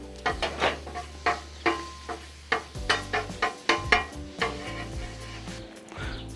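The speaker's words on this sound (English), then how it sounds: "So let me get some butter down on the griddle." Butter sizzles on a hot Blackstone griddle as a spatula spreads it around, giving a steady frying hiss broken by a series of sharp metal scrapes and clacks close by.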